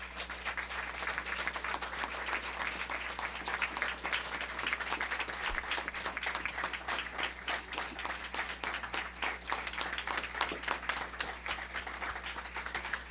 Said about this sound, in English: So can we please give these heroes a round of applause?